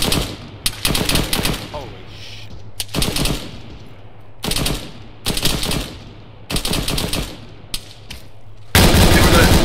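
Gunfire in the military shooter ARMA 3, with repeated bursts of automatic rifle fire between quieter gaps, loud and close, with a low engine drone underneath and faint radio chatter.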